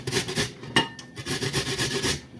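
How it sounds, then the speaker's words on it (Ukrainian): An onion rubbed against a kitchen grater in a home kitchen, a steady rasping scrape in repeated strokes, close and fairly loud with one sharper scrape partway through. "тру цибулинку, трішки сиру"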